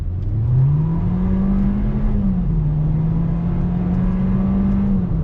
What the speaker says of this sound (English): Let me do another acceleration test.